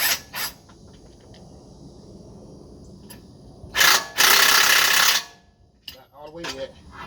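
Socket ratchet tightening a bolt on the driver-side air suspension of a 2010 Range Rover: a few close, sharp bursts of rapid clicking, the longest lasting over a second, separated by quiet pauses in a workshop.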